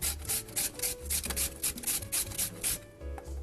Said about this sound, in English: I would just take my grater and grate it into shreds